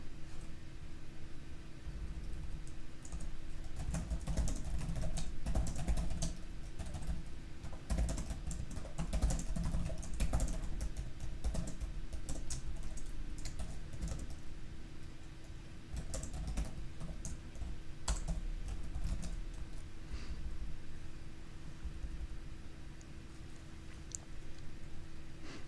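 Fast, continuous typing on a computer keyboard during coding, with dense clattering keystrokes close up and occasional heavier key hits, running for the whole stretch without talk.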